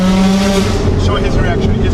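A car with a Tokyo driver firing nitrous roars loudly and continuously, its engine note dense and close, with a voice briefly present underneath.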